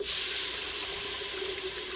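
Chicken broth pours steadily into a pot, a continuous hissing splash at close range with no talking.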